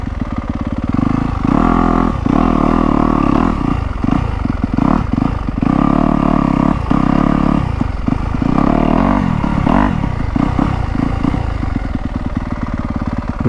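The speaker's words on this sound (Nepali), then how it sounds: "चढ्छ यो बाइक त जान चढ्छ।" Yamaha YZ250F dirt bike climbing a hill trail, its engine close and loud, revving in repeated surges with brief drops between throttle bursts and some clatter over rough ground.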